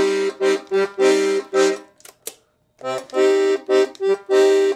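Bass reeds of a Salanti piano accordion, three reeds with two registers, play a series of loud, bright chords in short rhythmic bursts, pausing briefly midway before resuming.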